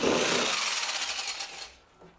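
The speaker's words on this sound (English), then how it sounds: "Brace yourself for drilling the actual 4-inch hole." A loud, harsh power drill grinds steadily through a rain barrel, cutting a 4-inch hole, for nearly two seconds, then cuts off abruptly, leaving a faint tail.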